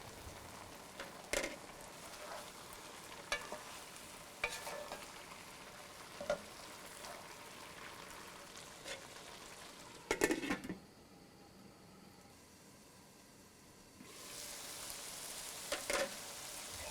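Pork ularthiyathu cooks over a medium flame with a soft steady sizzle, broken by occasional scrapes and knocks of a spoon against the pan, faint and close throughout.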